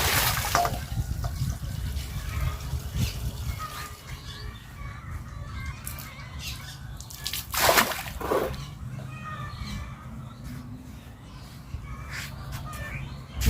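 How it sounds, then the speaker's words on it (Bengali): Cut fish being rinsed by hand in a basin of water, with steady sloshing and splashing, a louder splash near the middle, and faint birdsong in the background. "মাছ কাইটা নিছি সুন্দর করে, ধুইয়া নেই মাছগুলা"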